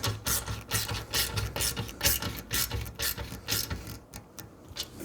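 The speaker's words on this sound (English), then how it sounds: "tighten this clamp up" A ratchet clicks in rapid bursts as an exhaust clamp is tightened on a Triumph Speed 400 during fitting of a Predator Carbon slip-on, sharp close ratcheting strokes in a steady rhythm with brief pauses.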